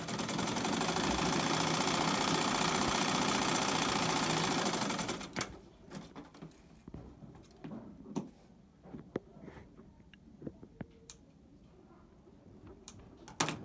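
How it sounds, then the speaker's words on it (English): A sewing machine stitches a zip into trousers, running in a loud, steady, rapid whir for about five seconds before stopping, then quieter handling clicks and rustles follow. "You get to sew on top of it this way. I'll be doing that now, so you see it. Right? I'll be sewing that now."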